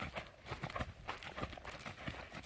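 Horse hooves clip-clop in a steady, rhythmic canter on a long line, the three-beat strides repeating close and clear throughout with no voices over them.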